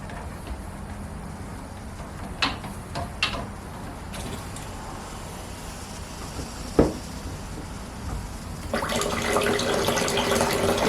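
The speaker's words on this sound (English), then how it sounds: "what I'm going to do is turn the water back on and check for leaks." A few clicks and knocks, then water starts rushing and hissing steadily through pipes as the supply to an AO Smith water softener is turned back on, growing louder toward the end.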